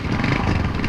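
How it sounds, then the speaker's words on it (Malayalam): A motorcycle engine runs nearby with a loud, steady, rough drone that holds level from start to finish. "ബൈക്ക്."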